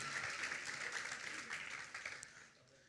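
A church congregation applauds, a dense steady patter of many hands clapping that fades toward the end, moderately distant.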